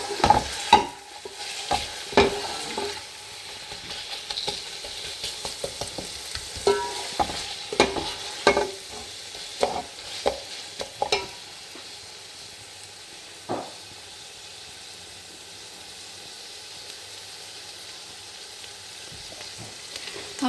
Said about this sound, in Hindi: हमने प्याज को इतना ब्राउन करना है कि ये गुलाबी से हो जाए।